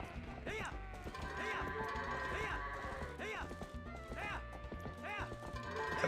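Goats are herded in the Twilight Princess HD video game, with repeated clip-clop hoofbeats, thuds and bleating-like animal cries over steady game music at low volume.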